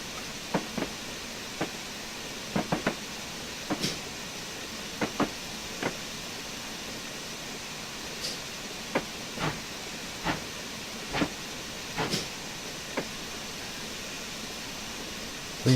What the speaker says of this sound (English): These things are called tank engines because they don't have a tender.